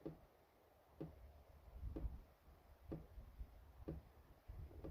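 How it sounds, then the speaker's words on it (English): Faint, slow drips fall about once per second, each a soft tick into a container over a low background rumble. "Okay, here I've got my jug set up. You can hear it."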